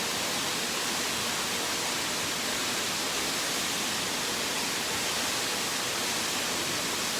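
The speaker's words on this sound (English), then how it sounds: "So I'm right behind one of the waterfalls now." Waterfall at Silver Falls State Park heard from right behind the falling water, a steady, dense broadband rush that stays even and continuous throughout.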